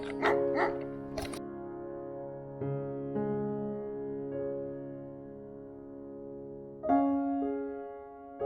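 Dog barking outdoors on a hiking trail in Turkey, a few sharp close barks at the start, then a steady tonal whine or drone that holds for several seconds, with another bark-like burst near the end.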